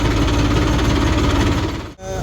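A New Holland tractor engine runs with a steady, throbbing low rumble close by as it heads out from home toward the fields, briefly dipping near the end.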